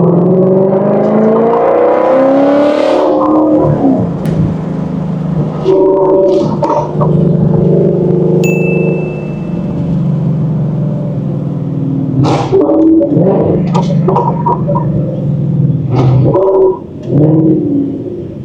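A Shelby sports car accelerates hard, its engine a steady loud rumble that swells and falls in waves throughout, heard from inside the cabin with occasional faint voices.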